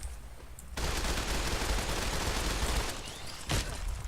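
A modded assault carbine fires in Fallout 4, a sudden loud sustained automatic burst after a brief quiet start, continuing hard to the end with one sharper crack near the finish.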